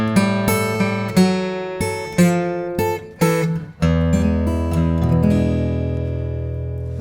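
Blues guitar turnaround in A, played alone: plucked bass notes and chord stabs descending in a steady rhythm, ending on a sustained ringing chord, close and clear with no talking.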